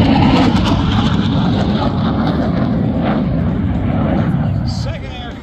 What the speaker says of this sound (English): The burners are cooking.